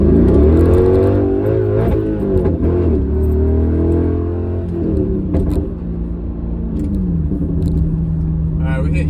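A six-speed Mercedes C55 AMG and an ML55 AMG launching from 0 to 60, loud engine roar rising in pitch through the revs, then a shift and a renewed climb, close and sustained throughout.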